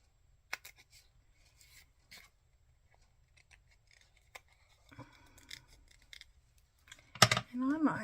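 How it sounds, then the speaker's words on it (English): Small scissors snip paper in short, separate cuts scattered through a quiet room, ending in a louder burst of cutting and rustling as a voice murmurs. "Trying to find a pair of little scissors to cut with."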